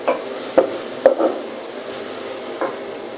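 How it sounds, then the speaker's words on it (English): Onions being stirred in a cooking pot while preparing carrot rice, with a soft steady sizzle and a few sharp scrapes and knocks of the spoon against the pot. "I'll mix with the onion before adding my rice."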